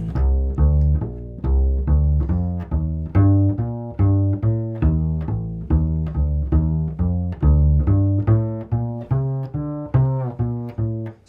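Walking bass line with steady, evenly spaced plucked notes at a regular quarter-note pulse, some beats leaning slightly heavier in the pattern of 2 and 4; clear, close and alone, with no talking.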